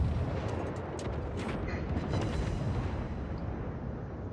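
Warship main guns in the World of Warships video game firing high explosive rounds, a dense, continuous roar of rumbling booms and blasts, loud and sustained without pause.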